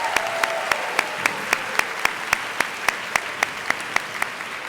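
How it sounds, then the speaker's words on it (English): An audience gives a sustained round of applause for the ESL finalists at the European parliamentary debating championship, with steady, dense clapping from start to finish. "one last round of applause for all the ESL finalists"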